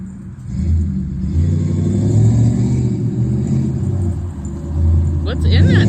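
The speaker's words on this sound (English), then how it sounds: "This sounds like a GMC." A GMC vehicle passes close by with a low engine rumble that swells and holds, and people talk over it while crows call in the background.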